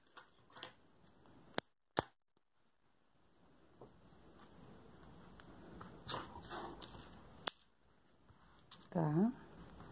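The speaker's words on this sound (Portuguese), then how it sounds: "vou cortar o fio." Crochet yarn is cut with scissors in two crisp, close snips early on, followed by quiet handling and faint rustling.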